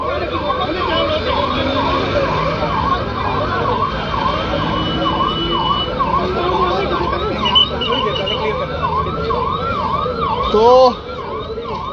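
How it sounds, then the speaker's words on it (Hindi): An ambulance siren wails continuously on a national highway blocked by a crowd, its rapid rising-and-falling tone loud and close over steady traffic and crowd noise, with someone briefly speaking. "एम्बुलेंस यहाँ से अभी निकाली गई है"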